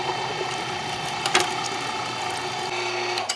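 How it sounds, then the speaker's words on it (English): A meat grinder with a coarse die hums steadily as it grinds cold sausage meat, with a brief clunk near the middle and another at the end. "Now that our meat is nice and cold, through the grinder we go."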